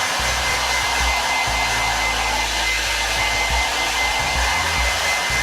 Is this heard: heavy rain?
no